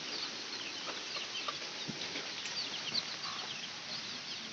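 Chickens kept tied up in a yard give a few faint, scattered clucks over a steady background hiss, with no one speaking.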